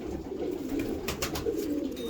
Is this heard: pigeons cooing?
yes